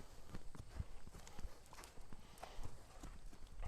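A two-year-old Oldenburg horse walks under saddle, its hooves clip-clopping in a steady, even rhythm at moderate distance. The beats are fairly soft, with no talking.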